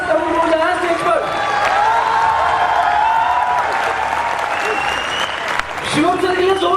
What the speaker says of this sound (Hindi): एक जोरदार ताली बज लीजिए भाई साहब